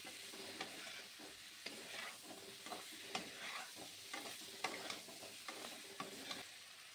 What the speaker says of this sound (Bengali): এই আলুটাকেও আমি চিংড়ি মাছের সঙ্গে ভালোভাবে কষিয়ে নিচ্ছি